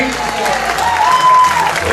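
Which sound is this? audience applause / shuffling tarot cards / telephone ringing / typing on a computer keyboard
audience applause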